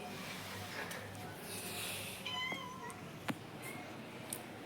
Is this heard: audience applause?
no